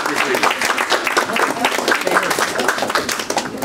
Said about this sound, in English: Please, everyone, a round of applause for our district leader.